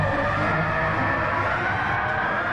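In a racing game, a car's tyres skid hard enough to throw up smoke, producing a loud continuous engine drone with a sustained screech layered over it.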